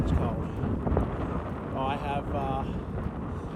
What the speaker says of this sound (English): Oh, that wind's cold.